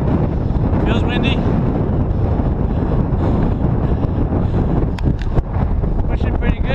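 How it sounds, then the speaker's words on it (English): Strong wind roars steadily across the microphone on a fast-moving boat, a loud, constant buffeting rumble with a few brief sharper knocks near the end. "Feels windy."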